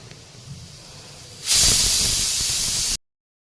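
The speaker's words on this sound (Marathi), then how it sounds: "कढई छान अशी गरम झाली आहे, त्यामध्ये आता आपण टाकूया 1 पळी तेल." Hot oil poured from a ladle into a heated kadai bursts into a loud, steady sizzling hiss that holds for about a second and a half, then cuts off abruptly into silence.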